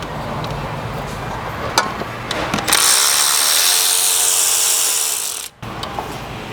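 A ratchet works a 10 mm bolt on a Honda starter, with close mechanical clicking and tool noise followed by a sustained whirring burst lasting a few seconds.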